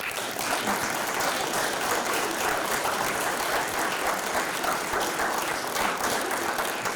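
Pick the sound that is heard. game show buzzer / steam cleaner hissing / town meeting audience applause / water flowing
town meeting audience applause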